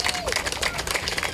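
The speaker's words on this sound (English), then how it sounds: "Let's give them a round of applause again." Crowd clapping and cheering for police officers at a National Night Out community event, a steady burst of applause filling the space with a speaking voice partly underneath.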